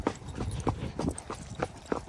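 A Marwari mare being walked, her hooves clip-clopping in a steady, fairly quick rhythm at close to moderate distance, soft against a faint outdoor background.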